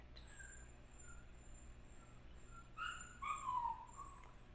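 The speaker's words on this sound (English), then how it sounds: "Puppy's going crazy," A puppy whimpers in short high-pitched whines, a few faint cries early on and a louder run of whimpers near the end, over a quiet background with steady insect-like hiss.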